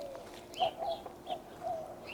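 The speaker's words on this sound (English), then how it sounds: "And can y'all hear the birds in the background?" Birds call in a Texas garden, with a few short cooing and chirping notes spaced out over quiet outdoor background.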